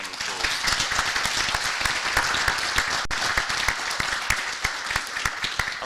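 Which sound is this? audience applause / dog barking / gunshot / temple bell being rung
audience applause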